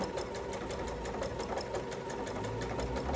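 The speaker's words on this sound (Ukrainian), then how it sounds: "Тримаємо за задні ниточки і починаємо пришивати." A sewing machine stitches a seam in stretchy fabric, running fast and steady with a rapid, even mechanical chatter close by, uninterrupted throughout.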